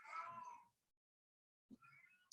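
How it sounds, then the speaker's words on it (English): Cat meowing in the background, two separate drawn-out meows split by about a second of silence, heard faintly in a quiet room. "if you can hear my cat Rico in the background"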